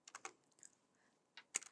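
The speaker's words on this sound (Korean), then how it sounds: "직접 타이핑하도록 하겠습니다" Numbers being typed on a computer keyboard into accounting software while working a tax exam problem: a few quiet clusters of quick, light keystrokes with short pauses between them, close and alone with no talking.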